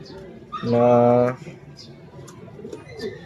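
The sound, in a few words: pigeon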